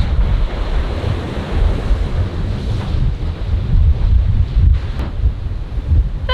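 Strong wind blowing in off the sea at a seaside golf course in the Dominican Republic, a continuous loud gusty roar buffeting the microphone with surf-like rushing and no talking.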